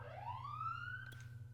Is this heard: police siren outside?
yes